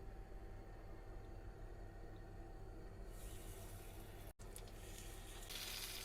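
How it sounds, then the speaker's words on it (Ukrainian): Batter-coated parasol mushrooms fry in a pan with a faint, steady hiss that swells into a brighter, louder sizzle partway through. "Тепер відправляю смажити гриби."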